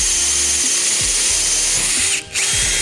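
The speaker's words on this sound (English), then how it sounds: "So now this is when you really wanna have a firm grasp on this drill, because it has a lot of torque in that number 1 setting." A power drill on its lowest, high-torque setting bores a hole in wood for deck carpentry, its motor whining steadily and loud with slow grinding bit rhythm and a brief pause near the end.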